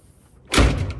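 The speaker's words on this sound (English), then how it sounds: "we're gonna actually close the door and see if that helped" Storm door swinging shut with a solid thud and brief rattle, close and fairly loud after a quiet moment, no talk.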